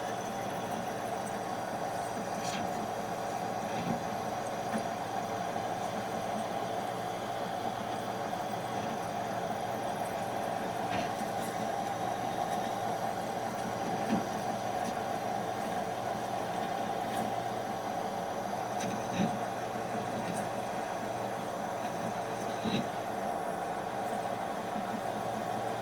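A metal-cutting machine runs steadily at a slow 120 RPM while cutting swarf in a shed, giving a continuous low mechanical drone with faint scraping and occasional small clinks throughout.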